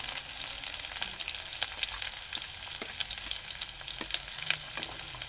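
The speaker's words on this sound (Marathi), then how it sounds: "कढीपत्ता चांगला कडकडला का आपण त्यामध्ये थोडासा कांदा टाकूया, जेणेकरून आपले तेल करपणार नाही." Curry leaves and chopped onion frying in hot oil in a pan, a steady bright sizzle and crackle with occasional sharper pops and a faint stir, fairly close and with no voices.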